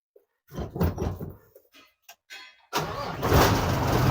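A truck engine starting after a check of its injection pump: scattered clicks and clunks, then the engine cranks and catches into a steady, loud running roar that fills the rest of the clip.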